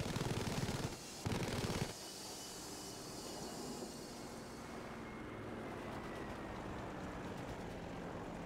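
An airplane flying in the video game Battlefield V gives a steady, fairly quiet engine drone. A brief louder burst comes near the start, then the hum holds evenly to the end.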